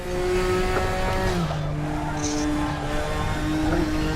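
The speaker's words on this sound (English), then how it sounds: "Enjoy the sound of the engine, guys." Classic touring race car engine in a sim racing game at Road America, loud and continuous, holding a droning pitch then shifting through gears with brief drops and climbs, faint tire noise underneath.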